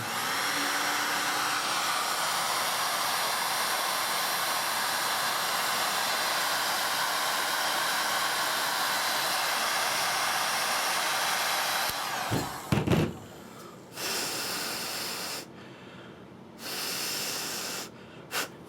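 A heat gun blows hot air over MDPC cable sleeving, a steady loud broadband whoosh running continuously for about twelve seconds before cutting off, followed by a few shorter bursts of airflow.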